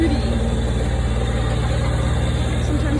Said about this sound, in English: You can see that mowing the lawn is fun on a tractor.